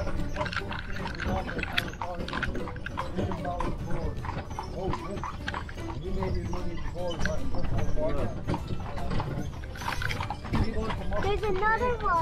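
Horse hooves clip-clop steadily while the horse pulls a jaunting car through Killarney, the rhythmic hoofbeats running under near, continuous conversation among the riders.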